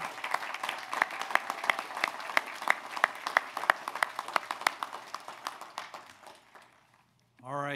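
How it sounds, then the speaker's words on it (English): Audience applause at an in-person commencement ceremony, a steady dense clapping from a crowd that fades out toward the end, followed by the start of a voice. "how about a bigger round of applause for Molly for helping us out here?"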